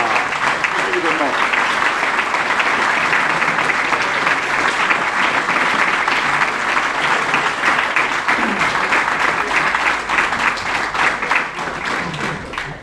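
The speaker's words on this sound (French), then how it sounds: "d'applaudir et d'acclamer très chaleureusement l'ensemble des jeunes qui ont participé" Loud, warm applause and cheering from an audience for the young participants at a youth event, dense continuous clapping with voices mixed in, sustained throughout.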